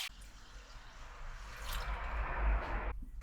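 Well water poured in while cleaning during a Talbot EP2 car restoration, a splashing flow that swells over a few seconds before cutting off.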